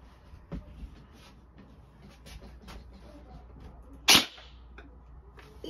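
An AR-style airsoft BB rifle fires once at a box, a single sharp, fairly loud crack with a quick snap, set against a quiet background with faint ticks and rustling.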